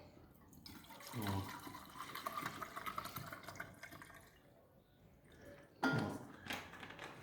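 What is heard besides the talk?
pouring alcohol from a small bottle into an ecological fireplace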